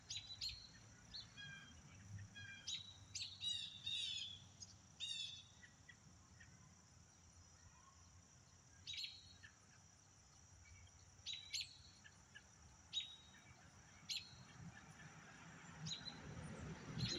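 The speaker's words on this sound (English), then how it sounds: "Hear that bird? It'll sit there for an hour and do the same thing all fucking day." Outdoors, a bird gives the same sharp chirping call again and again in spaced bursts over a faint background hiss, with no one speaking.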